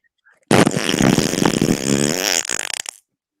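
A voice imitates a fart with a long, loud, wet raspberry lasting about two and a half seconds during a children's story time, close to the microphone.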